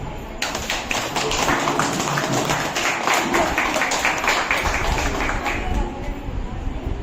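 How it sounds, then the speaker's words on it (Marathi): A crowd at a village nutrition-week community meeting claps in a steady, sustained round of applause lasting several seconds, with faint voices beneath. "आपण सगळ्यांसाठी जोरदार टाळ्या उद्या"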